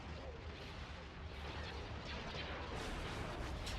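Continuous rumbling barrage of starship turret volleys in Star Wars Empire at War Remake, a dense wash of distant booming blasts rolling on steadily without pause.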